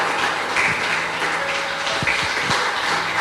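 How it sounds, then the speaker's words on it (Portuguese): Congregation in a church service breaking into sustained applause, a steady wash of many hands clapping throughout with faint low voices and scattered thumps beneath. "Dê uma linda salva de palmas ao nosso Rei."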